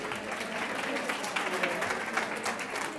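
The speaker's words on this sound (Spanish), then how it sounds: "un aplauso, por favor" An audience at a talk on teachers' emotional skills and wellbeing applauds, steady clapping from many hands lasting a few seconds, moderately loud.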